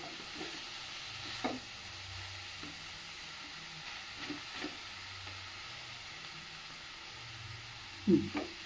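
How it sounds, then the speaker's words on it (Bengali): Vegetables sizzling gently in a pan over a low steady hiss, with occasional clinks and scrapes as they are stirred and a louder clatter near the end, with no talking. "নামানোর আগে সবজিটা যখন সিদ্ধ হয়ে ভাজা ভাজা হয়ে যাচ্ছে"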